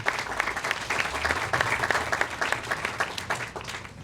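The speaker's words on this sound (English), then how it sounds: "So give yourselves a round of applause too." Hospital staff at a nursing excellence awards ceremony give themselves a round of applause, a steady, fairly loud roomful of clapping that holds for about four seconds.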